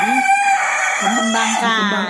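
An Ayam Sentul rooster, a native Ciamis chicken breed, crows loudly and close by in a long, strained cock-a-doodle-doo that breaks into a rising second phrase, with no talking over it.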